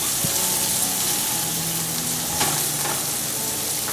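Stir fry sizzling steadily in a pan over high heat with pepper, a dense continuous frying hiss with faint clinks and stirring scrapes, close and fairly loud, no talking.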